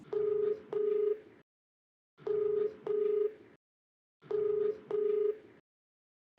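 A telephone ringback tone pulses in repeated double bursts, each pair of tones followed by silence, loud and clean during an outgoing call to a TV programme caller.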